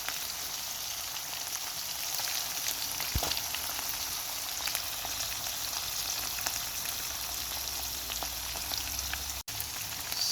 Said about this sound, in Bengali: শুটকিগুলোকে আগে তেলে ভেজে নিচ্ছি আর সাথে দিয়ে দিচ্ছি রসুনগুলো।